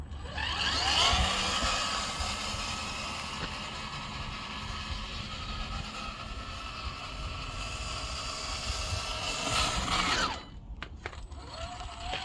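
A Cross RC Emo X3 RC tow truck drives off in first gear, its electric motor and drivetrain whining steadily and loudly for about ten seconds before the throttle is released and the whir drops away.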